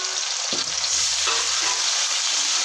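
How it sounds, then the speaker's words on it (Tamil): Tomatoes sauté in hot oil for a garlic curry, sizzling loudly and steadily up close, with a spoon scraping and turning them a couple of times early on. No one speaks. "தக்காளி சேர்த்துட்டு நல்லா இதை வதக்கி விட்டுடலாம்."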